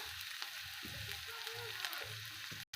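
Chopped onion and garlic frying in a pan, browning with a continuous soft sizzle and faint crackle under light stirring, fairly quiet and close, ending abruptly.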